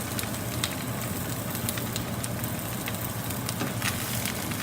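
Sauerkraut sautés in butter in a pan, giving a steady, dense sizzle with scattered small pops and crackles, close and even in level.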